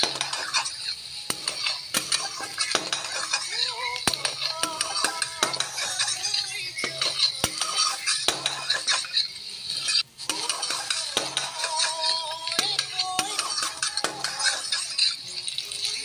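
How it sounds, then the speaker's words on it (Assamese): Metal spoon scraping and clinking against a cooking pan while pumpkin peel is stirred in an Assamese village kitchen, steady repeated strokes with faint sizzling underneath, close and alone. "এনেকৈ লৰাই থাকিম।"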